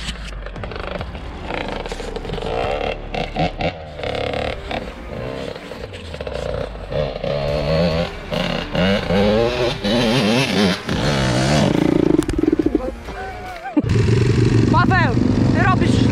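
A quad bike rides off-road, its engine revving and dropping in uneven surges, with people talking over it and a louder, steadier engine roar near the end.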